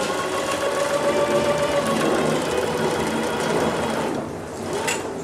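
A sewing machine stitches fabric pieces together in a steady, close whirring run, then slows and stops near the end.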